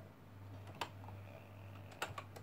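Keys clack on a BBC Micro computer keyboard whose action is a little funky, a few sparse close taps with two sharper clusters over a low steady hum, no talking.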